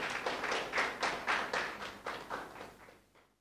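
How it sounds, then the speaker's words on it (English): Audience at a student debate festival applauding in a short burst of pulsing, rhythmic clapping that swells and then fades away to quiet, heard at a moderate distance without voices. "Once again, a round of applause."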